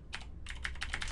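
Quick run of keystrokes on a computer keyboard while entering text in an Excel spreadsheet, a brief close patter of clicks over faint room hum.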